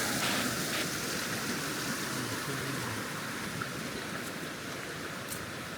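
A clear stream on the Appalachian Trail flows in a steady, moderately loud rushing wash close by, with faint splashes and no voices.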